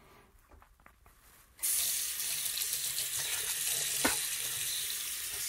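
Hot water runs from a bathroom tap in a steady, hissing gush. It starts abruptly after a quiet moment, stays close and continuous, and a small clunk is heard partway through.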